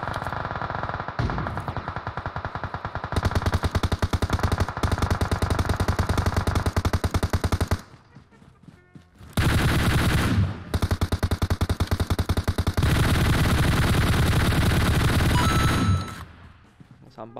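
Automatic weapon fire in the mobile battle royale game PUBG Mobile, loud, dense bursts of rapid shots in long runs that break off briefly and then resume, with a short gap of quieter background in the middle.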